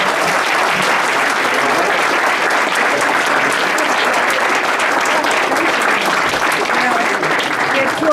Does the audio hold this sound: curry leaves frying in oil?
no